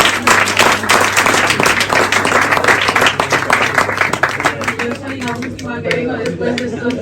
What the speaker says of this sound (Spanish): un aplauso y os dejo con Macarena